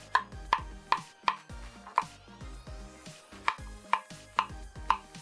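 A knife dices Korean zucchini into chunky cubes on a cutting board, making about a dozen sharp, close chops in quick bursts with a short pause midway, with no talking.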